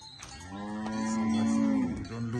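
A cow in the paddocks of a rural farm in Buhera, Zimbabwe, lets out a long, loud, sustained moo close by, with a second shorter lowing call trailing at the end.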